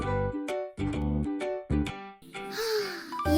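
A cow mooing: several long, loud, close bellowing calls in a row with short gaps between them, heard alone without talk.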